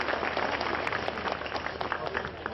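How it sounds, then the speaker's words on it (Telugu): An audience at a community gathering applauds, a steady patter of many hands clapping at moderate volume from close by, with no voice on top. "గట్టిగా చప్పట్లు కొట్టాలండి"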